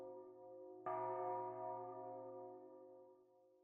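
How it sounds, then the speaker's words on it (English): In the Persona Q video game, a sudden bell strike sounds near the start and then rings on with sustained, layered tones that slowly fade, over a steady low hum and with no one talking. "It sounded like bells. It was different than our usual school bell, though, huh?"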